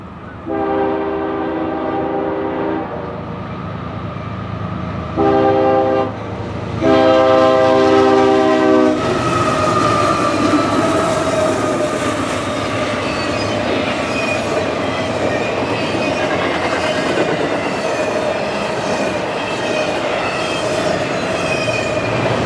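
Hotshot intermodal freight train I-003 carrying domestic stacks and UPS mail on the Mohawk subdivision in upstate New York, blasting a loud chord horn in several long and short blows before its cars roar and clatter steadily past.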